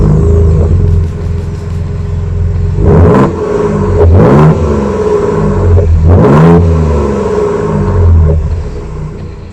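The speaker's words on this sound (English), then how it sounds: "those exhausts sounds really amazing" A 2022 Ford Ranger Raptor revs through its chrome dual exhaust in three loud, close blips, each rising and falling over a steady idle rumble, with no talk.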